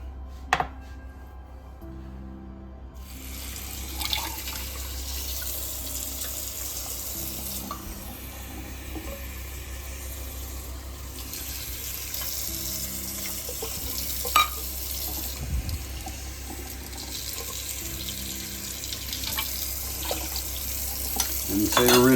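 Water runs steadily from a kitchen tap for cooking rice, a continuous hiss and splash that begins suddenly and goes on with occasional clinks and knocks of cookware.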